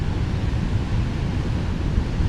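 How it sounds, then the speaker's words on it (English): Big ocean waves break at the bottom of a road by the beach in a harbor along the Road to Hana. They make a steady, loud roar of surf mixed with wind rumble against the microphone, with no speech. "the waves are getting big"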